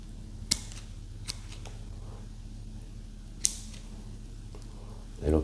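Scissors snip dead roots off a cattleya orchid during repotting, producing a few sharp, separate cuts with a faint creak, close and quiet against a low background hum.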